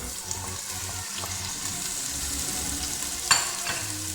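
Onion, green chili and chopped tomato sautéing in a hot pan for a Maggi masala, a steady close sizzle with soft stirring scrapes and a brief sharp clink near the end, no talking.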